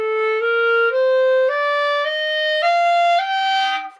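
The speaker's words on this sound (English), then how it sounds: "The upper register sounds like this." Clarinet in its upper register playing a slow rising sequence of about seven sustained notes, each stepping higher, clear and close with no talking.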